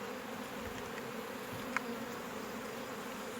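Honeybees hum steadily at close range as a colony is moved frame by frame into a new hive, a continuous dense buzz with one brief click partway through.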